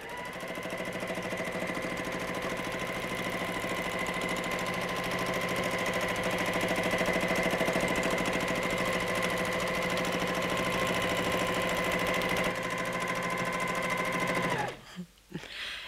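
A sewing machine runs nonstop during free-motion quilting on a quilt, an even rapid hum and needle chatter close by, stopping abruptly near the end.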